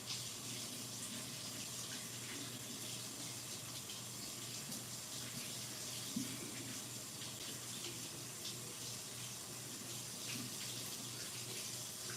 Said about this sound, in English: I'm gonna go give these a rinse